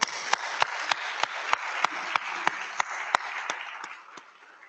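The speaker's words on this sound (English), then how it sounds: "Let's give her a round of applause." A symposium audience applauds, with a soft wash of clapping from many hands and a few sharp, evenly spaced nearby claps cutting through; the sound fades near the end.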